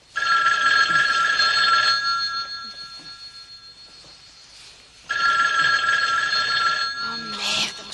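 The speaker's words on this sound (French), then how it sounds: "le téléphone n'arrête pas" An old-style telephone bell rings in two loud, sustained bursts separated by a few seconds of quiet, close and clear, with a brief faint voice-like sound at the end.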